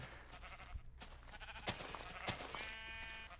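Several sheep bleat in Minecraft, repeated short bleats rising over a busy, noisy game background, fairly close and overlapping.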